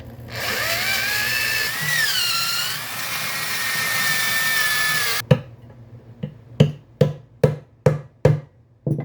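Power drill whining steadily at length on an F-150 5.4L engine timing repair, changing pitch as it loads, then stopping and followed by a series of short sharp bursts.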